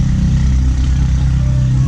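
A Yamaha R15 sport motorcycle revs loudly and close by, its engine droning steadily at high pitch without pause.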